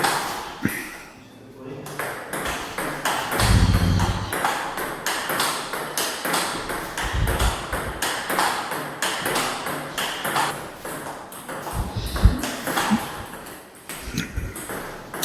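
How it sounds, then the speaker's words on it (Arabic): Table tennis balls click sharply back and forth in a quick rally of backhand spin shots, repeated pings and taps under a talking voice and room echo. "عشاق تنس الطاوله عارفين ده سبين باك هاند"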